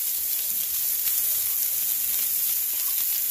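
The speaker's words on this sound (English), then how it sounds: "so we're gonna do a little pastrami on here, so I'm adding a little oil. We're just gonna warm it up on the grill." Pastrami warms in oil on a grill with a steady, loud, close sizzle and hiss that holds even throughout and is heard without any speech.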